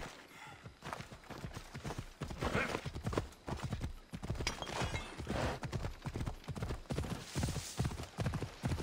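Rapid, steady clip-clop of horse hooves in the video game Assassin's Creed Odyssey, close and loud, like a horse trotting continuously over hard ground.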